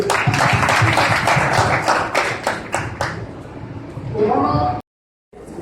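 A crowd at a police–public dialogue event in Rajasthan claps loudly together, with dense overlapping hand claps and voices mixed in. The sound tapers off into a short silence near the end.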